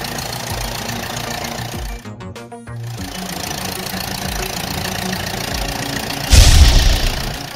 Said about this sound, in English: Pink, tractor with loader.